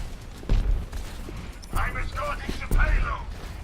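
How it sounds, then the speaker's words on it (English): Gunfire aimed at a single player in the Overwatch video game, bursts of shots hitting at three moments under steady commentary. "He has a lot of people shooting at him."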